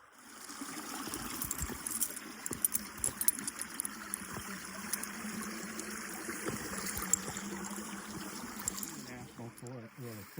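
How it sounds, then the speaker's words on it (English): A small babbling brook in a Virginia state forest trickles and burbles softly in a continuous, faint wash with scattered small splashes and no speech. "Little babbling brook. It's like a little baby river,"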